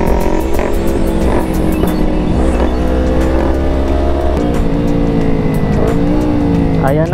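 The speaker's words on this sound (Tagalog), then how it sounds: "Ayan na po ang traffic ng Barkadahan Bridge." Road traffic streams steadily across Barkadahan Bridge, with a loud, close drone of car engines, shifting revs and occasional tire noise, heard from a motorcycle rider's position with no talk.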